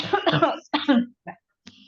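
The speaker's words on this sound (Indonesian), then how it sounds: "Sorry, mau batuk dulu." One person coughs a few times, harsh close bursts broken by short silences, during an indoor question-and-answer session on short-story writing.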